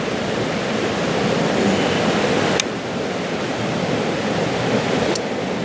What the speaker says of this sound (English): enjoy the sound of the river